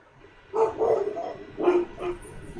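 Dogs barking in a shooting video game match, a few loud bursts of barks in two clusters close to the listener.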